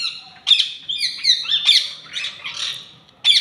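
Several birds squawk and chirp in sharp, bright bursts, calling back and forth close by with short pauses between calls.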